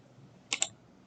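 Two quick keystrokes on a computer keyboard, crisp close clicks in a quiet room, with no talking.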